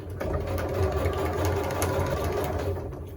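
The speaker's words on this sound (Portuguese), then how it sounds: "baixar a agulha e fazer a mesma coisa, costurar bem em cima na linha que eu tracei, sem retrocesso" A sewing machine stitches a straight seam along a traced line without backstitching, a steady loud mechanical whir with fast rapid needle clatter running continuously from start to finish.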